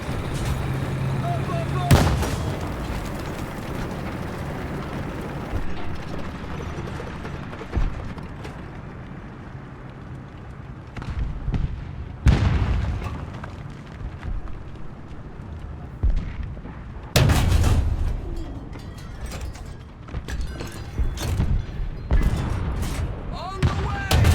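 Gunfire hitting a tank in War Thunder: heavy cannon blasts and sharp impacts strike at intervals over a constant rumbling engine drone, with someone talking throughout.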